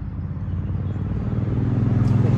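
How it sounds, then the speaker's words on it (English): Steady low rumble of road traffic, a continuous engine drone that builds slightly louder toward the end, with no voices. "Sorry about the road noise."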